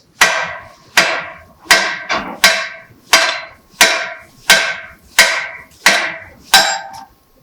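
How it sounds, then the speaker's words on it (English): Ten sharp, evenly spaced hammer blows ring out loud and close as a bolt is driven out of a Toyota 4Runner lower ball joint connector clamped in a vise, with one quick double strike midway and no talking. "get both sides of the lower ball joint connector on the vise, and then drive this bolt out"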